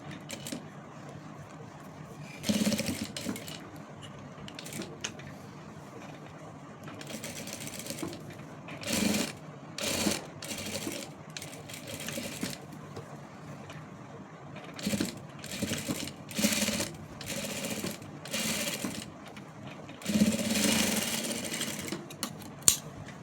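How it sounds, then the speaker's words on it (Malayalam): A sewing machine stitches a frock seam in short bursts of rapid mechanical whirring separated by quiet pauses, close and fairly soft. "ഒന്നും കൂടി ഇതിൻ്റെ മേലെ കൂടെ ഒരു സ്റ്റിച്ച് കൂടെ കൊടുക്കാം"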